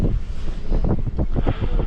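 Strong wind in the Bolivian desert buffets the microphone in a steady, heavy rumble with gusty low roaring throughout, and no voices.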